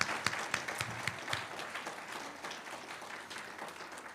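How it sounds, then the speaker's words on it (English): An audience at an awards presentation gives the award winners a final round of applause, with a few sharp individual claps up front before it settles into lighter, scattered clapping that trails off. "Please join me in giving one last round of applause to the award winners"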